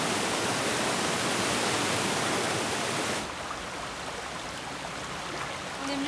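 Waterfall roar as a loud, steady broadband wash of falling water, constant for the first half then dropping to a softer continuous rush, with no voices over it.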